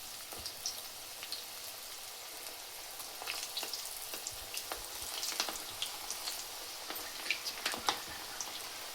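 Gobi manchurian cauliflower pieces fry in hot oil, giving a steady crackling sizzle with sharp pops and spatters scattered throughout at a close, moderate level, with no talking.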